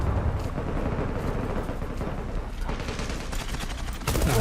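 Gunfire in the online shooter Zula on the Çanakkale map, a dense continuous barrage of rapid shots and bursts filling the whole stretch, loud and close.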